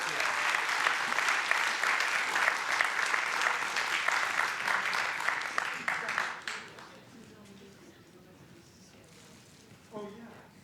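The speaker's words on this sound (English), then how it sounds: "I would also like to give a hand of applause to Emma and Kristen" An audience claps at a public talk, a loud dense round of applause for about six seconds that fades out abruptly, followed by a quiet room and a small noise near the end.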